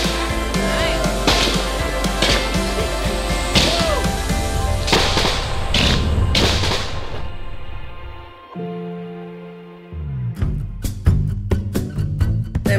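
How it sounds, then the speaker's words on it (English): Fireworks burst over a remote northern Quebec setting in a dense, loud volley of cracks and booms, then a brief lull followed by a fresh run of sharp, close pops and crackles. "Fireworks!"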